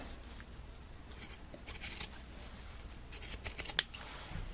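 Scissors snipping through old, worn-out fabric being cut off a garment for a wearable-art remake, a series of close, crisp blade cuts in uneven bursts with one sharper snip near the end, no talking.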